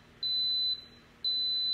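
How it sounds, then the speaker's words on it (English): An Instant Pot pressure cooker gives two long, steady electronic beeps separated by a short gap, clear and moderately loud against a quiet kitchen background. "And then once you hear the three beeps"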